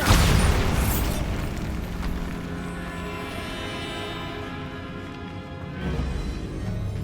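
A Bombarda blasting spell detonates in Hogwarts Legacy, a loud booming explosion at the start that rolls into a long rumbling, debris-filled decay before a second swell of crashing noise near the end.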